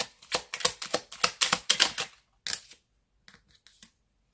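Playing cards riffled and shuffled by hand during a tarot-style card reading, a rapid burst of crisp papery flicks for about two seconds, then a pause and a few softer scattered card snaps.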